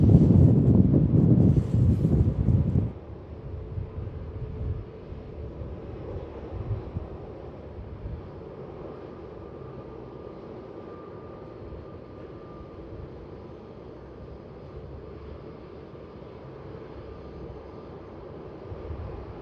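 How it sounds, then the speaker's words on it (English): A Fiji Airways Boeing 737 Max takes off from runway 16 at Melbourne Airport, a loud, broad jet roar for the first few seconds that drops to a distant, steady rumble with wind noise. "Comes Fiji, 737 Max. Runway 16 cleared for takeoff."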